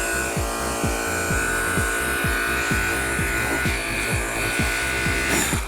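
Ryobi EZClean 18-volt RY120350 power cleaner running on its turbo setting, a steady close motor whine with a constant spray hiss and a regular pulsing rhythm, heard alone without speech.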